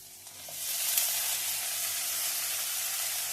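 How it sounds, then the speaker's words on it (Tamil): Okra, coriander and curry leaves hitting hot oil in a pan, a sudden surge into a dense, even sizzle that holds steady and close, with a faint stir early on and no speech. "கறிவேப்பிலை எல்லாம் சேர்த்து நல்லா ஃப்ரை பண்ணணும்"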